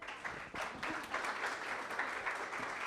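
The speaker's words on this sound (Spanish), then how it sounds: "Un aplauso, por favor." A panel audience at a journalism and political-communication event applauds the introduced university speakers, giving a fairly faint but steady spread of clapping that lasts for a few seconds.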